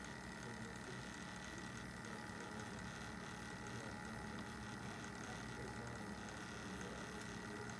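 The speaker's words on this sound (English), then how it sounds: "Mercury vapor analyzer." A mercury vapor analyzer draws in an air sample with a steady, unbroken mechanical whir and hum that stays even throughout, with no voices.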